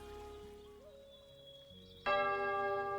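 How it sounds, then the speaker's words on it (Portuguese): A church bell struck once during a São Brás novena skit; the loud, ringing strike follows a quiet, tonal stretch and its tone hangs on to the end. "Toca o sino, sacristão."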